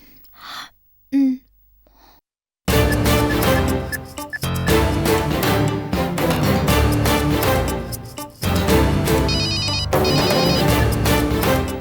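An incoming phone call rings with a loud, melodic electronic ringtone repeating in a bright looping pattern after a few soft breaths and a short silence.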